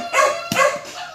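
A Bac Ha puppy, nearly two months old, gives two close, loud yipping barks about a third of a second apart, followed by a fainter whimper.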